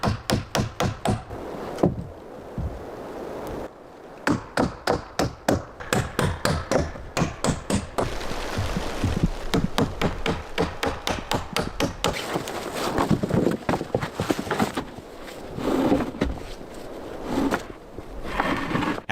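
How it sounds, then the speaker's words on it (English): Hammers pound wooden crossbeams onto log cabin roof rafters in a forest, a long run of sharp, rapid, evenly spaced wooden knocks with brief pauses, close and loud, with no talking. "Using hammers and screws, each beam is being firmly secured so that the rafters do not move."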